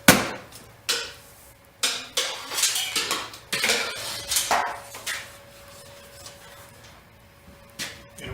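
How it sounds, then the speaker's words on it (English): Metal hook pushed into a drywall cavity to fish wire, giving a series of sharp metallic clinks and scraping knocks at an irregular pace, close and moderately loud, then quieter rustling. "so I'm going to insert my hook in first"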